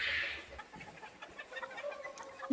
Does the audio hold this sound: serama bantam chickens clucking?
yes